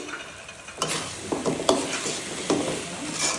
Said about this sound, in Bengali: এখন কষিয়ে নিচ্ছি